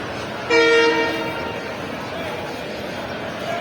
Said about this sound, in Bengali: ট্রেন আসতে চলছে